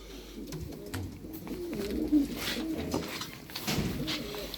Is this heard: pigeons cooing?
yes